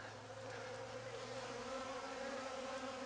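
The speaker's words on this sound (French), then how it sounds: "vous devriez entendre les abeilles" Bees buzzing around a garden water trough in a vegetable plot, a steady, dense hum of many insects close by with no voices.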